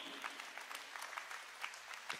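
A church congregation applauds during a sermon, a brief wash of many hands clapping that sounds distant and faint, with scattered sharper claps rising above it.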